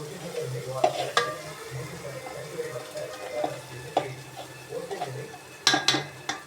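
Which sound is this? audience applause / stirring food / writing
stirring food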